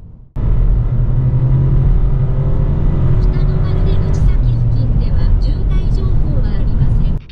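A Volkswagen T-Cross SUV accelerates hard while merging onto a road, its engine and tyre roar loud and steady from inside the cabin, a dense continuous rumble that holds throughout.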